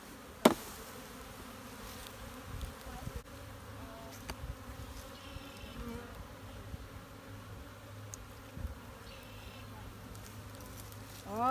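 Honeybees and large drones buzz inside an opened spring beehive in Durango, Colorado, a steady low droning hum with close passing buzzes and a few small knocks, no talking.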